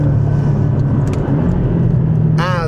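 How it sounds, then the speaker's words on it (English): A Porsche 718 Boxster GTS engine holds a steady, loud low drone from inside the car at constant speed, with a short rising whine at the very end. "Porsche purists will nod their head at this engine"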